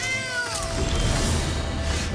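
A cat meows from the Skittering Kitten card in the MTG Arena card game, a close, clear, high-pitched mew with gliding pitch, heard alone over a steady background of game music.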